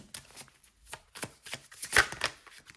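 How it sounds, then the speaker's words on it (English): Tarot cards being shuffled by hand, a quick series of crisp riffling snaps and soft flutters in an irregular rhythm, close and fairly clear with no voices. "I'm going to keep shuffling"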